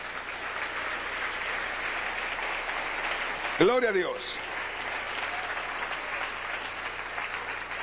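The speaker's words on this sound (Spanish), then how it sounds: "Dale un aplauso al Señor." Sustained applause from a church congregation during a Spanish-language sermon runs steadily through the whole stretch, with a brief spoken exclamation rising over it midway.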